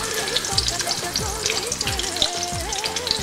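Sliced courgettes hit hot oil in a pan and fry with a busy, crackling sizzle, punctuated by a few clattering stirs and a constant hissing bed of spitting oil, close and fairly loud.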